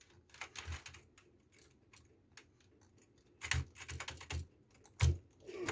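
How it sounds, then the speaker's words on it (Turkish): Bursts of computer keyboard typing during a Zula game match, quick clustered clicks with louder clacks in several spurts and a quieter stretch in the middle, no voices. "klavye sesi çok fazla geliyorsa kusura bakmayın lütfen"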